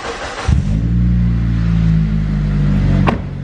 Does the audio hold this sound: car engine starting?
yes